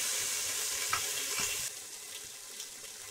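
Soaked chickpeas fry with ginger and green chili in a pan, a loud steady sizzle with a few stirring scrapes that eases to a softer hiss partway through, heard alone.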